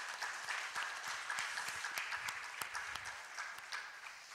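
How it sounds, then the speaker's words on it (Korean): A church congregation claps during a year-end Sunday service, a quiet but steady round of applause with distinct individual claps, no talking over it. "또한 우리를 첫날부터 지금까지 인도하신 하나님께 영광의 박수를 드립니다."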